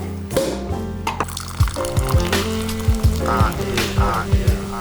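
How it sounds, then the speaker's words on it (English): Spirit for a French 75 cocktail being poured through a fine strainer into a glass, a close, steady liquid stream with light splashing and dripping over a backdrop of continuous low music. "and pour in"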